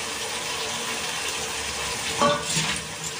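Chicken offcuts (chaat) are tipped into well-fried spice paste in a pan, sending up a brief swell of sizzling over a low continuous frying hiss.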